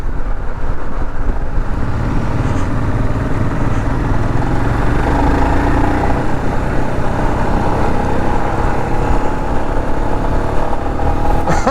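A Royal Enfield Himalayan motorcycle engine drones steadily while riding, a loud continuous thrum with wind rush and no break across the whole stretch.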